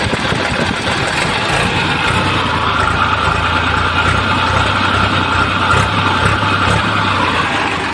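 A New Holland 3230 tractor engine runs steadily at idle, a loud, close, continuous diesel rumble with even knocking firing and no voices.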